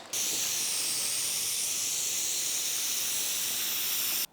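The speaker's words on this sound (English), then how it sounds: "now we're spray gluing the. No, no, we're spray gluing this to this with this" A steady, loud hiss of spray adhesive from an aerosol can, used in furniture upholstering, one continuous burst lasting about four seconds and then cutting off abruptly.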